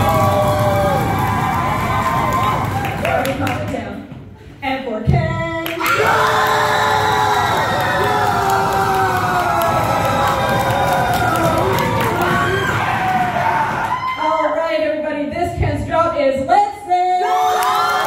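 At the Tsukino-Con cosplay contest, a crowd cheers and whoops loudly for the clown cosplayer. The noise swells and dips with brief lulls, and voices and shouts are mixed in.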